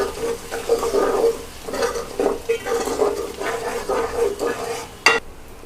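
Spices are stirred into a frying pan for besan khandiyan, a close scraping of a spoon against metal in uneven strokes over a soft sizzle, ending with a sharp clack.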